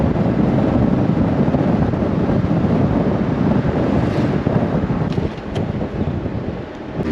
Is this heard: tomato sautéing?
no